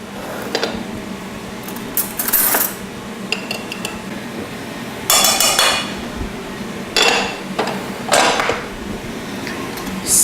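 Butter being mixed into hot drained pasta in a pan, with intermittent scraping and clattering of a utensil against the pan in bursts, fairly close and without talk.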